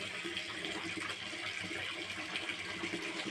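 Running water splashes steadily and close while a batch of clothes is washed by hand, a continuous rushing wash with no voices.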